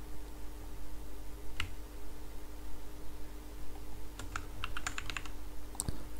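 Computer keyboard typing while copying and pasting a command during a K3s Kubernetes installation, a scattered run of light key clicks, mostly in a quick cluster near the end, over a steady low hum.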